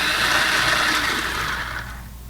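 A blender whirring steadily as it chops curry ingredients, a loud continuous motor roar that eases slightly toward the end.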